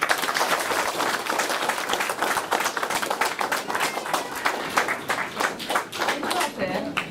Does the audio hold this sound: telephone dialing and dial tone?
no